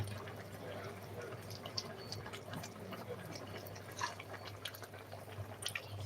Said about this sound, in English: So I'll be adding a little more water.